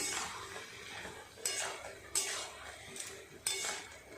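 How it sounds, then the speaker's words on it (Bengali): Bottle gourd and potato being stirred with spices in a metal pan: soft scraping punctuated by several sharp clinks of the utensil against the pan, with a faint sizzle underneath. "নুন ভালো করে মশলার সাথে লাউ আলু এইভাবে কষিয়ে নেব"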